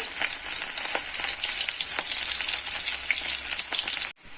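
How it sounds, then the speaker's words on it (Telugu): Garlic dropped into hot oil sizzles and crackles loudly and continuously in a pan, a bright hissing fry that cuts off abruptly at the end. "Oil heat ఎక్కిందండి. వెల్లుల్లిపాయలు వేసుకుంటున్నాను."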